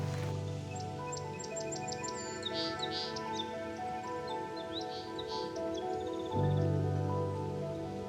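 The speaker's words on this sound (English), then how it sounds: "I'm really enjoying all the sounds of spring and the birds starting to call again" Spring birds call at a small salt marsh in Maine: scattered high chirps and short tweets ring out over a steady droning background, fairly faint and without speech.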